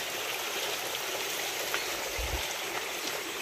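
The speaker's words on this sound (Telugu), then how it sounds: "ఈ వాటర్ సౌండ్కి ఇక్కడ నేను చెప్పే వాయిస్ కూడా లో అయిపోతుందండి." Streams of several waterfalls pour down a hillside near the Jalakanteshwara temple, a constant close rushing hiss with one brief low thump partway through.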